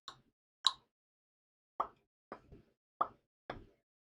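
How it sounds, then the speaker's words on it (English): Six short, dry pop sound effects, spaced irregularly across four seconds, each a crisp isolated plop with quick decay and silence between, no voices present. "Is pop even the right sound effect for this?"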